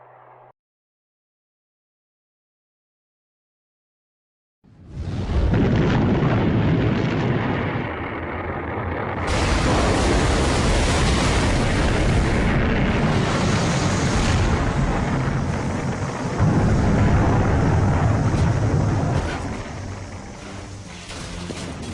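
Titan rocket explosion: a sudden, loud roaring blast after near-silence, sustained as a broad rumbling roar with surging swells for over fifteen seconds, no voices.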